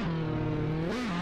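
A turbocharged drift car engine in the Assetto Corsa racing game, with boosted turbo pressure, holds a steady buzzing drone and then briefly revs higher before settling back.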